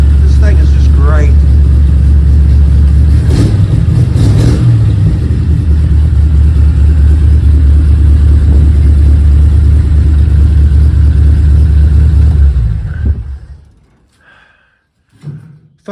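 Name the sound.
old car engine starting and revving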